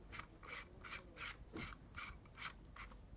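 A polarizer filter is screwed onto a Lee filter holder, making a faint, close, rhythmic rasping of threads, about ten short scrapes in steady succession with no talking.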